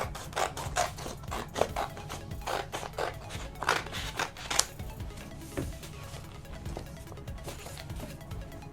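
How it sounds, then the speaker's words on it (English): Scissors snip through folded paper sheets at close range, a run of sharp crisp cuts in the first half easing into softer rustling and handling of paper, quiet overall. "You can cut them individually or put a few together and then cut them in half."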